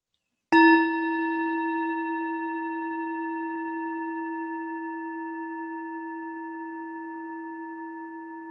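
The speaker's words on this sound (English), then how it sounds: "as I ring the bell and bring this to an end" A single meditation bell struck once to close a mindfulness session, ringing out clearly and then sustaining a long, steady, slowly fading tone with no talk over it.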